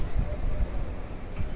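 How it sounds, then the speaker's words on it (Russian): Strong, cold wind roaring ahead of a thunderstorm, a steady broadband rush with gusty swells, loud and close on the microphone, with no speech over it. "О, какой сильный, сильный, сильный, холодно, холодно прям становится от этого ветра."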